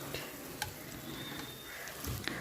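Fried potatoes being stirred into cooked spice paste glistening with released oil, a soft continuous sizzle with intermittent spatula scrapes and light clicks, fairly quiet and close.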